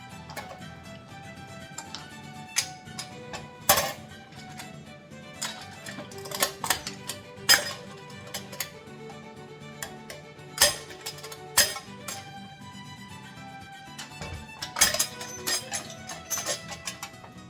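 Soaked almonds being cracked open in their shells, a scattered series of sharp close clicks and snaps at irregular intervals over faint background music, with no talking.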